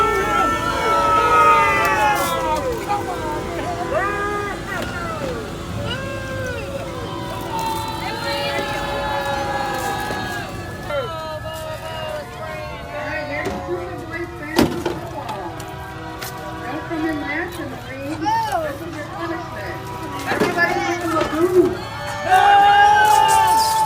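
A loud parade crowd cheering and shouting in a busy outdoor mix, with voices, whistles and siren-like wails rising and falling throughout and surging again near the end.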